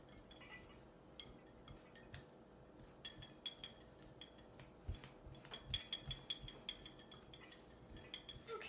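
Faint metallic clinks and soft scraping as a pastry tool cuts butter into flour in a bowl, irregular light taps growing busier toward the end, close and quiet.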